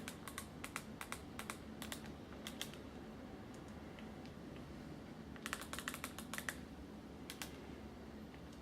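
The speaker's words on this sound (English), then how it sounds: "Helps if you type the password properly." Keys tapped on a computer keyboard while entering a password to boot a Raspberry Pi Model A+, heard as quiet, close clicks in short bursts with pauses between them and no talk.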